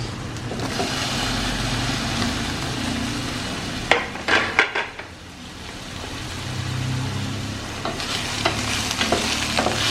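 Onions frying in hot oil in a home kitchen, a steady broadband sizzle running throughout with a brief burst of louder crackles and clatter midway before the frying settles back.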